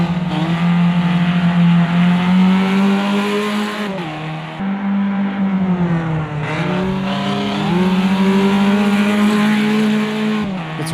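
Race cars in a racing video game roar past at high revs, a loud, steady engine whine that dips and climbs through gear shifts and corners, with no voices over it.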